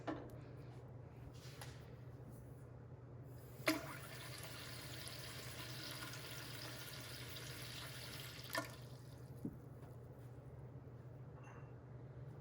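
Tap water runs steadily into a pressure canner holding jars of beef, a continuous moderate gush with a couple of faint clunks partway through.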